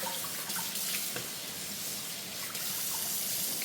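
Food is washed under a running kitchen tap, water pouring steadily and loudly with splashes throughout, with no talking.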